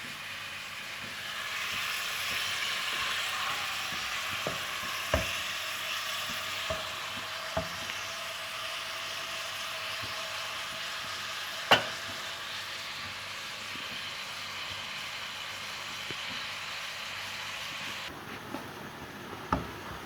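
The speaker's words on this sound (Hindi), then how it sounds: "थोड़ा टाइम लगता है प्याज ब्राउन होने में। अच्छे से इसको बस ब्राउन करें।" Onions frying and browning in a pan for kofta curry, a steady close sizzle running throughout with a few faint clinks of a utensil against the pan.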